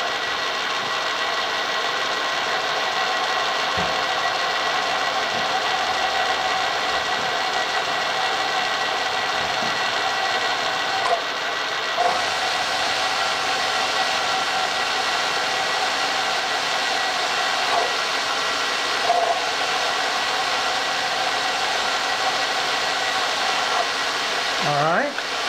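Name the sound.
power drill drilling into block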